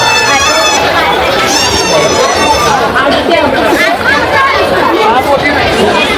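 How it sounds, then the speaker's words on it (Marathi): A dense crowd at the Badlapur fair makes a continuous loud babble of many voices, with shouts rising over the steady hubbub close by. "भरपूर गर्दी आहे"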